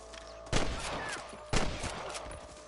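Two loud gunshots, about a second apart, ring out in the Western video game Red Dead Redemption, each a sharp crack with a lingering tail over a busy ambient background.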